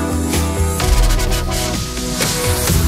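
A stretched, wobbly LFO-modulated synth transition sweeps through dense electronic music, with a pulsing, warbling texture that shifts midway and plays loud and continuous with no voices.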